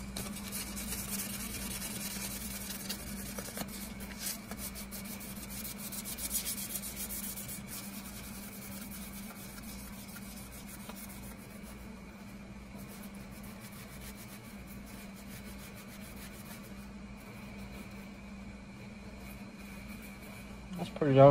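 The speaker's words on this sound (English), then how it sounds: "I'm going to sand it down a little bit." A Camillus knife handle is sanded by hand: a steady, close, low rubbing and scraping that runs continuously and fairly quietly, with a short louder knock at the very end.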